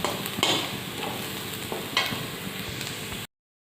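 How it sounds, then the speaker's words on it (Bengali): Boiled egg and potato being mashed together by hand in a home kitchen, giving soft squelching and scraping sounds with a few sharper scrapes near the start and middle, close and steady, with no talking. "ডিম আর আলুটা বের করে আর মেখে নিই ডিম তার আলু সিদ্ধটা"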